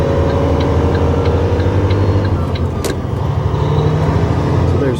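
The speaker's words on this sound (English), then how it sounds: "I'll let you hear how this guy shifts." An RV hauler truck accelerating and shifting gears: a loud, close, continuous engine drone with a deep low rumble, rising in pitch and briefly dipping around a gear change midway, with faint ticking over the top.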